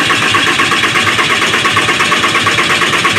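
A Dodge 6.7 Cummins diesel engine cranks over on the starter, a loud, rhythmic, pulsing churn that stays steady from start to finish without catching.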